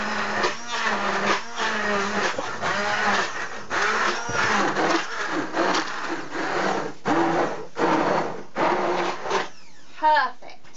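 A handheld blender whirs through a hemp milk cake mixture in short bursts with brief pauses between them. A person talks over the blending.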